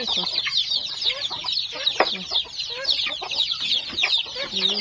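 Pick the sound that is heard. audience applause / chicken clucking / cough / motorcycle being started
chicken clucking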